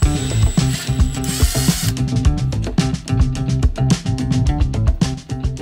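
A power drill fits hinges onto a homemade utility closet for an RV, whirring and stopping in short bursts with clatter, loud and close throughout.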